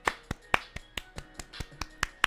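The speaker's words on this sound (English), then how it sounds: "Golf clap." A slow, sparse golf clap of about eleven sharp, evenly spaced claps from a single person, crisp and close, with quiet gaps between each one.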